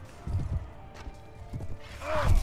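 Horse whinny from the medieval battle game Mount & Blade: Warband, a rising-falling neigh near the end over hoof clip-clop and battle noise, with faint voices in the mix.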